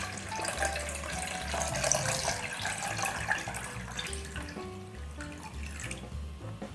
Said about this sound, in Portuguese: Também vou colocar 1 litro de leite integral.